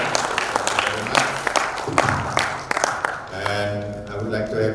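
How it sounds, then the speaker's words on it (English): An audience at an international seminar claps for a speaker, a short burst of scattered applause that fades after a few seconds into music. "Give applause to Marcelo very much."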